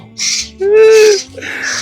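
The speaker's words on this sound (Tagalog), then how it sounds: "nag-iingay ng mga ibon" Loud, close bird calls: a drawn-out hooting cry flanked by harsh, noisy bursts, a few calls in quick succession.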